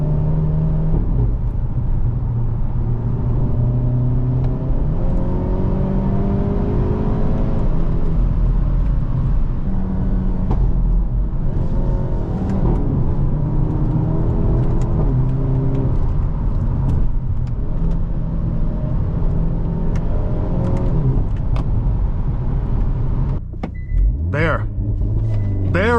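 A 2025 Hyundai Elantra N with a dual-clutch transmission accelerates hard, the engine rising and falling through repeated quick upshifts with a deep, loud, close rumble, a voice talking over it at times.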